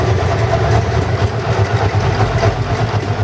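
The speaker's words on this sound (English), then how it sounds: "the bike is stumbling and only running on one cylinder" A carbureted motorcycle low on fuel stumbles and runs on only one cylinder: a close, uneven idling rumble that pulses irregularly and steadily for a few seconds, with no talk.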